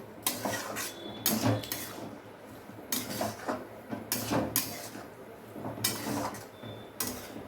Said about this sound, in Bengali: মশলার সঙ্গে চালটাকে এবার আমি ভালো করে কষিয়ে নেব।